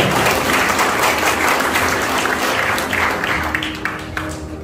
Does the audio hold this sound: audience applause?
yes